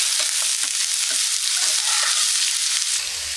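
Onions and bitter gourd fry in a pan with a steady, close hiss of sizzling oil, broken by a few soft stirring knocks, with no talking.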